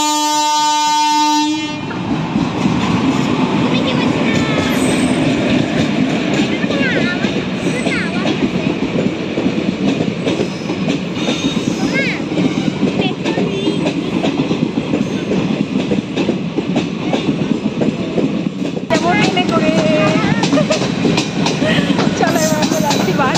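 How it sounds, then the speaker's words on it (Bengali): An electric train arrives and passes close by: a horn sounds at the start, then a loud, continuous rumble and clatter of wheels and carriages fills the rest of the clip. "ওই যে ট্রেন দেখার জন্য ট্রেন আসছে"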